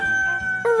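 A rooster crows once, a short, loud, bright cock-a-doodle call with a sharp rising note near the end, alone with no speech.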